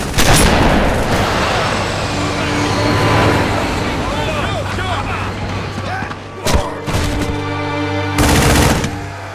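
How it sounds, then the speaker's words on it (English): Battle gunfire in a Halo video game cinematic: dense, loud, continuous machine-gun bursts and booming shots with engine rumble, bursts flaring near the end, under shouted voices. "Move on it! I need a hand! Keep firing!"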